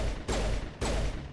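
Gunfire in the video game Mass Effect Legendary Edition: two loud, sharp weapon blasts about half a second apart, each with a ringing tail, close and dominant.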